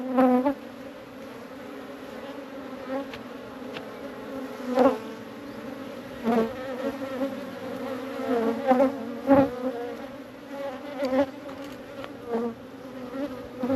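Honey bees swarm and buzz around an open backyard hive, a dense steady drone of many wings close by with brief louder swells as individual bees pass near.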